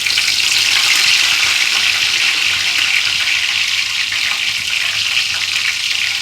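Curry leaves and fennel seeds dropped into hot oil in a pan for duck curry, a loud, dense, steady sizzle close up throughout.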